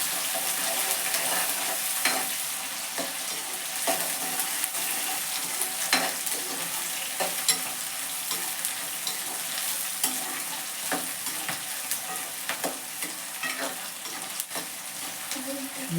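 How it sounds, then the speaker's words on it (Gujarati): Onions frying in a pan for a spinach and potato curry with green chillies, a close, steady sizzle broken by frequent scraping and stirring strokes, with no one talking. "ડુંગળી ફ્રાય થવા આવી છે"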